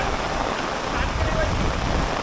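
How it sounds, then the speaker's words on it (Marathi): Dense, steady hiss of heavy rain in the Konkan near Savatkada waterfall, across the whole stretch, with low rumbling noise underneath and no clear breaks. "आणि आता पाऊस खूप पडायला लागला आहे"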